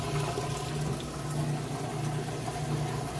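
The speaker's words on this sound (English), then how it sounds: "See, it's draining out the water." Steady rushing and gurgling of water draining from a Kenmore washing machine with a low mechanical hum underneath, continuous and even throughout.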